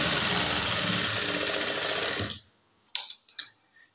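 A sewing machine stitching a lining blouse runs in a dense, fast mechanical rattle for about two seconds, then stops, followed by a few short clicks and handling taps nearby.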